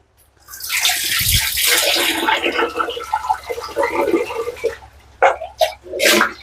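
Water splashing and sloshing as fresh fenugreek leaves are washed and soaked in a bowl in a home kitchen while making a tomato curry, steady for several seconds, then breaking into a few short separate splashes.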